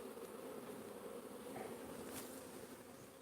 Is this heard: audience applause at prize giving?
no